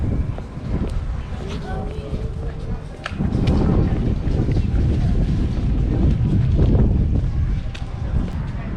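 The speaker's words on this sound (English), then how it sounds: "And the wind is picking up." Gusty wind buffets the microphone in a town setting, with low rumbling bursts that strengthen partway through, while a person talks over it.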